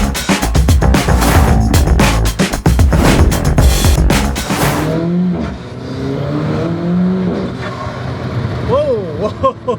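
Alfa Romeo 4C with a new intake accelerating hard on the road, engine roaring loudly through the first half before easing off into a lower drone with a few brief revs, recorded up close from inside.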